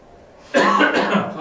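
A single close, harsh cough bursts out and trails into a rough, throaty rasp lasting about a second.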